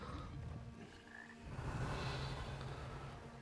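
A frog in the video game Hogwarts Legacy croaks in faint repeated low pulses set against quiet ambient game sound.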